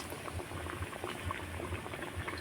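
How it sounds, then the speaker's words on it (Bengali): Chops deep-fry in hot oil with a dense, steady bubbling and soft pattering, close by and moderately quiet, with no voices. "কত সুন্দরভাবে তেল থেকে ফুলে আসছে"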